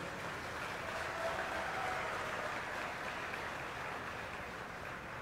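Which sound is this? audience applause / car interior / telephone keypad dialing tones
audience applause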